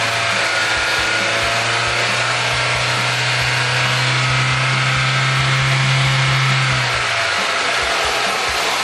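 A car engine revs up slowly and steadily from idle to about 4000 rpm during a mass airflow sensor check, a loud continuous drone that rises and then drops off near the end, with no talking.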